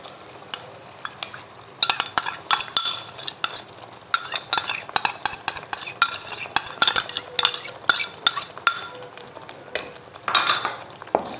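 Yogurt and cream being stirred into masala in a pot over low heat: continuous scraping and clinking spoon strokes with a soft sizzle, close and fairly loud, with no talking.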